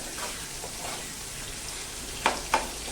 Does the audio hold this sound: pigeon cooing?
no